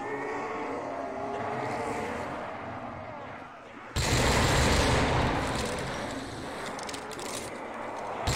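Heavy gun firing in a tank video game, a dense continuous roar of rapid fire that swells loudly halfway through and holds to the end over rumbling engine noise.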